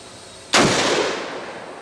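A .50 Beowulf rifle fires a single sharp, loud shot outdoors, the blast hitting abruptly and trailing into a long fading rumble of echo, with no voices.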